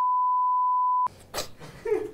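A steady electronic censor bleep at a single pitch holds for about a second, then cuts abruptly into background voices and a dog panting and whimpering at close range.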